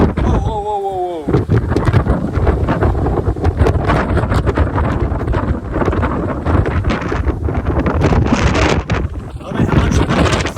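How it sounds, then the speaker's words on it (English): Strong wind at the Cooks River bridge in Kyeemagh, NSW, roars and buffets the microphone in a loud, continuous rush with gusty swells, after a brief tonal sound at the start. "It's too windy."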